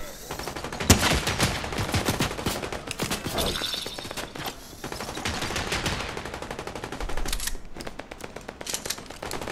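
Rapid, continuous gunfire from a Fortnite match, with dense bursts of shots and automatic fire rattling steadily and loudly throughout.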